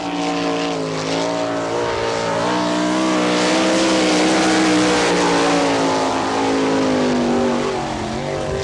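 A race car laps an oval track at an NCRA All Stars event in Wichita, Kansas, its engine a sustained loud drone with the pitch gently rising and falling through the turns, continuous and without talk.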